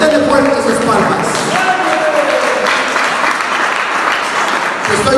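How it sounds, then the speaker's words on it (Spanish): Church congregation applauding loudly and steadily, a dense wash of hand claps with cheering voices mixed in, continuing for several seconds before tapering off near the end. "Denle fuertes sus palmas"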